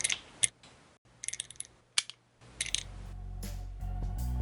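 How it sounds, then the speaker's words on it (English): A series of sharp mechanical clicks and clacks in short bursts, followed by a low rumbling swell that builds near the end. "But like the clicking of the gun"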